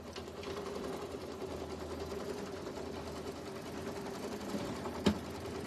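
A sewing machine stitching a pillow runs in a steady, fast mechanical whir throughout, moderately quiet, with a single sharp click near the end and no talk.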